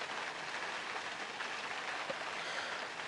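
Steady rain patters on a surface, a soft continuous hiss of drops with no voices, even and moderately faint throughout.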